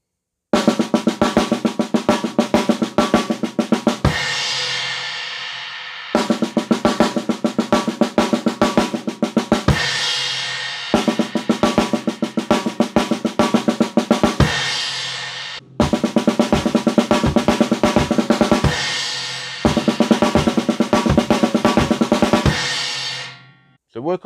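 A slowed-down drum kit pattern, played close and loud. Five repeated bursts of steady, rapid hits each end in a ringing cymbal wash before a short pause, with no talking.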